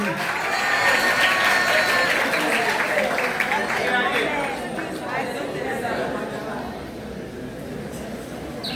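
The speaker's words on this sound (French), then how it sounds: "Applaudissez la jeunesse ici" A church congregation applauds the young people, loud sustained clapping mixed with cheering and crowd chatter that gradually fades, with a voice heard over it.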